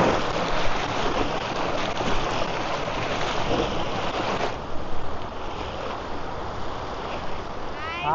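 Rain-swollen village pond water spilling over its spillway, a loud, continuous rushing roar heard close up, with a steady churning texture throughout.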